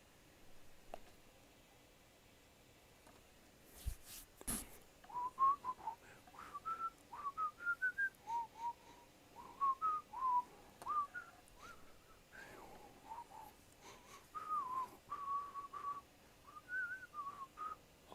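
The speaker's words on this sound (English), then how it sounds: "didn't mean to whistle all up on everybody's ear" A person whistles a light, wandering tune in short melodic phrases, soft and close, with a brief loud knock partway through and quiet room tone in between.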